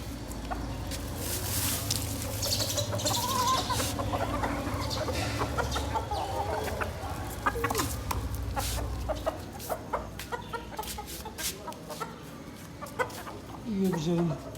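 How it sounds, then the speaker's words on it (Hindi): Several backyard chickens cluck and chatter close by while pecking at spinach, with soft pecking taps and someone talking over them at times. "मुर्गियाँ पालक बड़ी खुश होकर खाती हैं।"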